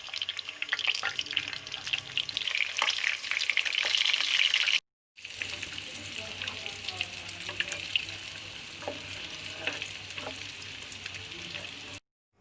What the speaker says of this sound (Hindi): यखनी कबाब को हम शैलो फ्राई करेंगे।